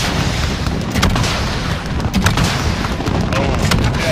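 Apache helicopter firing its gun in a game, with repeated booming bursts over a dense rumbling background, close and loud.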